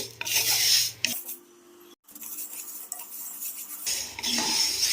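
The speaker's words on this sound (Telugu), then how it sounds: "ఇది మనం కలుపుతూ వేయించుకోవాలి" A sweet moong dal filling is stirred and scraped in a pan over a low flame, with a spoon rubbing steadily against the metal and a short pause midway before the scraping resumes.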